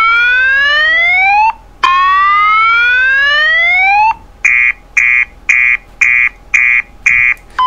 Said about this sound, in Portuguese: Esse é o áudio do primeira versão original desse alarme